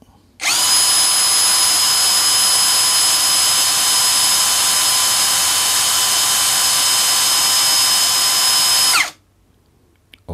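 A MLHY CID-48B-BL cordless brushless drill, set to second gear, whirs loudly and steadily at high speed for about eight and a half seconds before cutting off abruptly.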